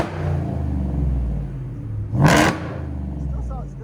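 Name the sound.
supercharged Ford F-150 5.0L V8 revving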